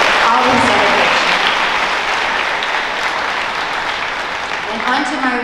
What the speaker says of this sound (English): So give him a round of applause for that.